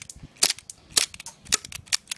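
Airsoft gun shots outdoors, five sharp snapping cracks spaced about half a second apart, fairly close, with no talk over them.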